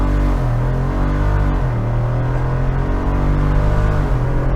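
A 2024 Jeep Wrangler 392 Final Edition accelerates hard from 0 to 60, its engine droning loudly with a climbing pitch that drops back at gear changes.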